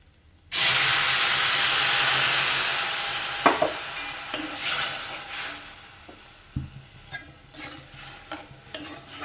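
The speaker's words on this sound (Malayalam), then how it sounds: "ഇനി നമുക്ക് ഗ്രേവിക്ക് ആവശ്യമായിട്ടുള്ള വെള്ളം ഒഴിച്ചു കൊടുക്കാം" Water hits a hot pan of egg curry with a sudden loud hiss that slowly dies down, followed by scattered scraping and stirring clicks.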